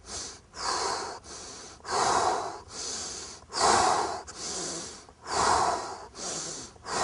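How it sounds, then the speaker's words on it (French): Rhythmic Systema breathing during push-ups: sharp inhales through the nose alternate with forceful exhales through the mouth, about a dozen close, loud breaths in a steady cycle, with no talking. "Inspire nez, expire bouche."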